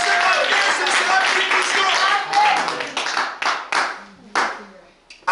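A church congregation claps in acclaim during a sermon, dense sustained applause that thins into a few scattered claps and separate bursts, with voices mixed in.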